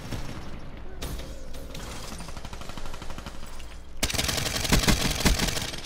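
Rapid automatic gunfire in the shooter game Black Ops 3, a dense rattling stream of shots with brief gaps, then a louder, heavier burst near the end, close and sharp.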